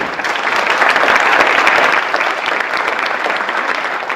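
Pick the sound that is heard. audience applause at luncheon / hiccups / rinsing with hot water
audience applause at luncheon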